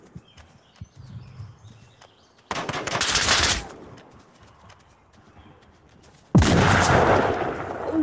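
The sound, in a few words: gunfire in the VR video game Onward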